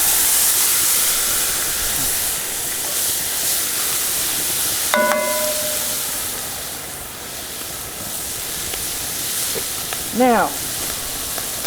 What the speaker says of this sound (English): Now I'm gonna put my meat back in there, get it all stirred up.